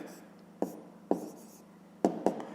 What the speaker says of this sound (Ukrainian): Ну що ж, записуємо тоді відповідь, пишемо відповідь